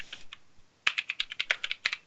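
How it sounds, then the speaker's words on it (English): Computer keyboard typed on loudly: a few light taps, a brief pause, then a quick close-up run of about a dozen sharp clicking keystrokes. "You're typing really loud."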